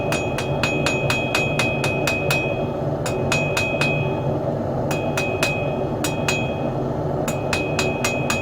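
A small hammer strikes metal in bursts of rapid ringing taps, pausing between groups, over a steady background rumble of a workshop; the clinks are sharp and close.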